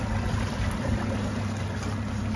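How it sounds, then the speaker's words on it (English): A boat motor runs off Maui during fishing, heard as a steady, loud low rumble with a broad hiss over it, unchanging throughout and with no voices. "I'm gonna start the boat right there"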